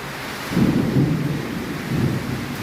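Heavy rain pours steadily with low rumbling swells of thunder rolling through a windstorm outside a hotel, a dense continuous wash of storm noise.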